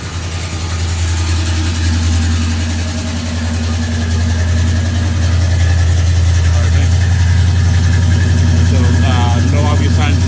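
A 1967 Pontiac GTO engine idling steadily through its exhaust, a loud, constant low rumble that runs the whole time with no revving.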